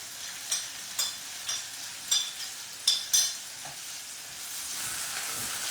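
Chopped medium onion with ginger and green chilli being stir-fried, a steady sizzle broken by about half a dozen sharp scraping clacks of a utensil stirring the pan, with no talking.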